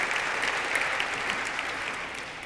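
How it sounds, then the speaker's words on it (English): Awards-event audience applauds honoree Matt, a continuous, even bed of many hands clapping at moderate distance that eases off slightly toward the end, with no talking heard. "I'll clap for Matt"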